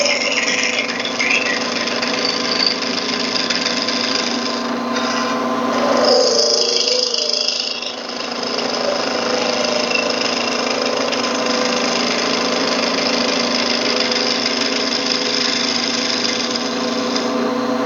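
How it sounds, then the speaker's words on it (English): A skew chisel held at about 45 degrees cuts into a spinning wood workpiece on a lathe, giving a steady, loud, continuous shearing hum with a brief change in tone midway. "All I'm really doing is getting my Skew Chisel engaged at roughly a 45-degree angle to my workpiece."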